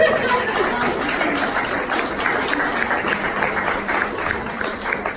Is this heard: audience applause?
yes